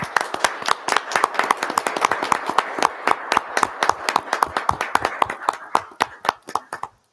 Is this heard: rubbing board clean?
no